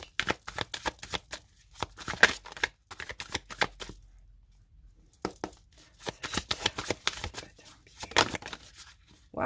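A deck of tarot cards is cut and shuffled by hand in repeated bursts of quick riffling and flapping, with a short pause midway before the shuffling resumes, close and crisp.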